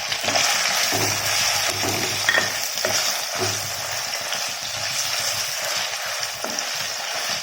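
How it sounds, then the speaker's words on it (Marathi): Paneer frying in hot oil for a vegetable dum biryani, a loud, steady crackling sizzle with intermittent stirring clicks and scrapes, no voices. "आता यामध्ये आपण आपलं पनीर छान तळून घेऊयात"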